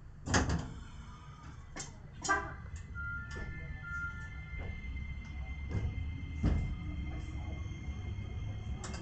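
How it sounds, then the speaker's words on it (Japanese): Iyo Railway train doors close at a station with a few sharp thuds and rattles, the loudest near the start and again later, over a steady electrical hum inside the car. "ドアが閉まります。"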